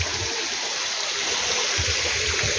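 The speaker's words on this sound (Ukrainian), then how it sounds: "Такі цікаві фонтанчики, як стікає каскадом водичка." Water cascading down tiered fountains beside a castle in Kwidzyn, Poland: a steady, close rush of splashing and trickling that fills the scene with no pause.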